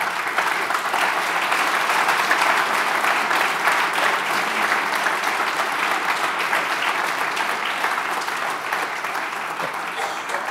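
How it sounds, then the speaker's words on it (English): A large conference crowd at AMP Conf applauds in a dense, sustained wash of clapping that stays loud and even for about ten seconds without breaking off. "let's give them a round of applause"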